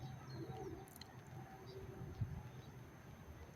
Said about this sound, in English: As you can see, the birds are plenty.